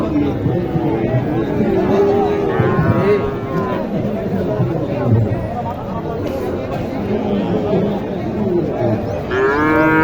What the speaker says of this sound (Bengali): এখানে একটি ক্রস গরু দেখেন।